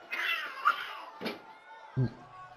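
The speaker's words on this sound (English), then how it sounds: "And apparently all those cats you heard are part of his intro now." Several cats meow in a short intro sequence, a few drawn-out meows and a brief low yowl spaced apart, moderately close against a quiet background.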